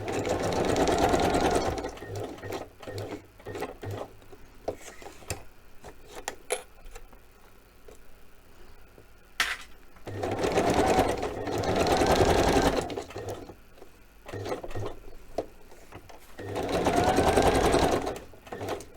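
Sewing machine stitching zigzag on a craft project, running in three loud bursts with quieter pauses between them, where small clicks and handling sounds are heard.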